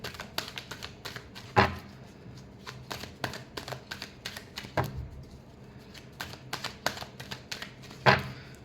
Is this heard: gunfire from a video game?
no